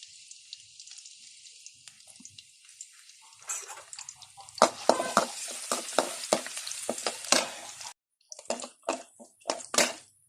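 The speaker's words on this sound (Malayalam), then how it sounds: "ഒരു പാത്രത്തിലേക്ക് കുറച്ച് എണ്ണ ഒഴിച്ച് അതിലേക്ക് വെളുത്തുള്ളി ചോപ്പ് ചെയ്തിടാം" Chopped garlic frying in oil in a pan, starting as a faint sizzle and breaking into a louder, crackling sputter with scattered spoon scrapes, close and with no voices.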